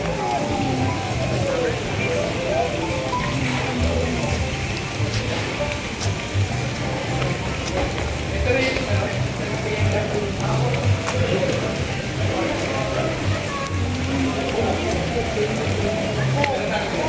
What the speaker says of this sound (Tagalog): Sayang ulan, ganda sana,